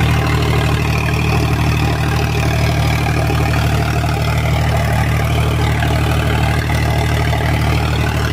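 An Eicher 551 tractor engine idles with its silencer removed, a loud, steady low-pitched chugging with a gritty rumble that holds unchanged throughout, close by and with no voices.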